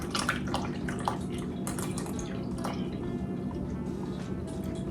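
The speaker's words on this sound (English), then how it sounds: "We're just going to add our pineapple juice right in there." Pineapple juice pouring into a saucepan makes a steady liquid splashing and dripping close by, continuous and even, with no talk over it.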